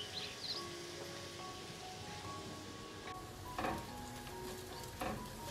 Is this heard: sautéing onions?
yes